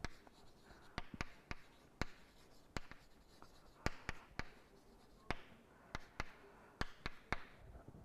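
Pen or chalk strokes from handwriting vector notation during a mathematics lecture, sharp irregular taps and short scrapes at a steady working pace, fairly close in a quiet room with no speech.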